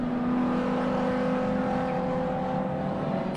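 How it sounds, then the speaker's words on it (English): Touring cars, including a big V8 Ford Falcon, race around a circuit in a steady engine drone with a high whine, heard from a distance and fairly faint, with no talk. "really fighting the big V8 engine Ford Falcon"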